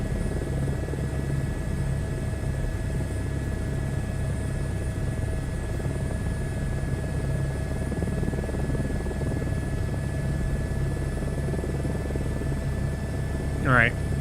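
An Airbus H125 helicopter in a flight simulator game drones steadily and loudly for the whole stretch, a constant rotor and turbine hum with a brief tonal chirp near the end.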